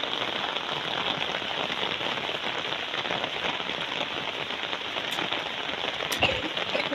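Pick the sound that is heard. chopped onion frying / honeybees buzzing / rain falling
rain falling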